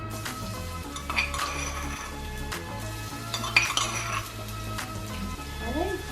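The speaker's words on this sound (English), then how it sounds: "Okay, just give that a stir." Crushed garlic stirred in a hot pot, with soft clinks and scrapes of a utensil against metal over a faint sizzle and low background hum, close and quiet.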